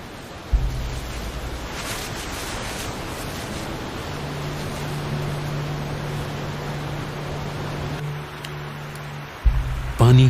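A broad, steady rush of flowing river water, the Kali Gandaki, running through a valley between mountains, fills the scene evenly from start to end, with a low tonal hum beneath it and a brief burst near the close.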